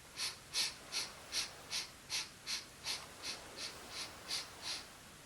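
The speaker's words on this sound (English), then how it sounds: "take that little in-breath in sips through your nose, in little sniffs, like this" A series of about thirteen short, sharp nasal sniffs in a steady, even rhythm during a yoga breathing exercise, close and fairly quiet, with no talking.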